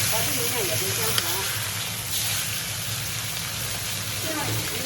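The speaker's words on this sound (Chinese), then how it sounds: "面煎好以后，我们给它翻个面，把这个面也给煎好。" Crucian carp pan-fries in hot oil in an iron wok, a steady close hiss and sizzle with faint background voices in places.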